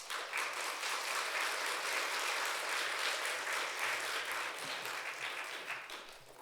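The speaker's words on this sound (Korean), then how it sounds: "우리 권오흠 목사님 나오실 때 큰 박수로 환영해 주시면" Congregation at a Sunday church service applauds to welcome Pastor Kwon onto the stage, a steady broadband wash of many hands clapping at a moderate distance, sustained throughout and tapering slightly at the end, with no talk over it.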